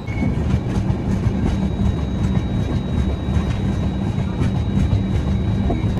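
Loud, continuous rumble of the Dhauli Express running on rails as it enters Dantan station, with rhythmic clickety-clack of wheels over joints, heard from inside an AC chair car or close by.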